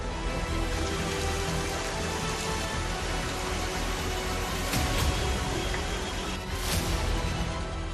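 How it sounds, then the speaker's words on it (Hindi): Dense, steady roar of heavy monsoon rain pouring down in Kargil, a continuous wash of noise with no talking. "करगिल में अचानक तेज बारिश से अफरा तफरी।"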